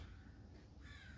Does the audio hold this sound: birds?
yes